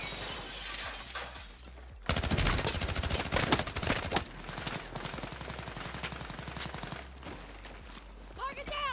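Gunfire in the video game Battlefield 6: dense bursts of rapid automatic shots and impacts against a wall over a busy battle mix, with players talking throughout.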